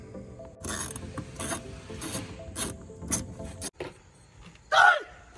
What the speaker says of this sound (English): We're just gonna put these screws back in to secure the wheel well liner back where it was